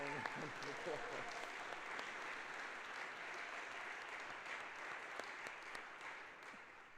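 Sustained audience applause fills a birthday celebration hall for a long stretch, steady and dense, with some voices mixed in beneath the clapping.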